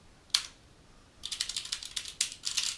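Typing on a computer keyboard while coding, heard as one isolated keystroke followed by a fast, uneven run of crisp clicks. The sound is close and clear, with no talking over it.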